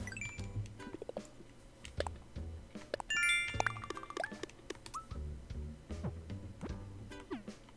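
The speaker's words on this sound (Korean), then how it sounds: "3시가 되면서 지금 마을 종소리가 울리는 것 같아요." The town bell chimes at three o'clock in Animal Crossing: New Horizons, playing a custom melody as a run of bright, clear chime notes over soft, scattered game sounds, moderately quiet throughout.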